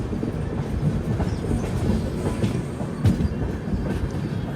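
The Telangana Express, train 12723, runs on rails along a curve in a steady dense rumble with rhythmic clatter of wheels over joints, heard from inside the train.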